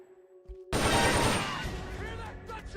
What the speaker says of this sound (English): Hear that? Gunshots!